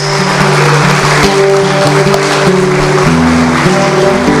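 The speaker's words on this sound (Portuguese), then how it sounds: "Eu peço uma salva de palmas para Deus pela vida deles" A church congregation claps loudly and continuously during a worship service, a dense wash of applause layered over sustained musical tones.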